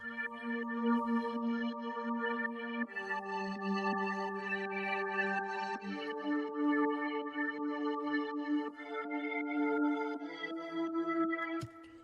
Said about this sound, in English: And these two pads together sound like this.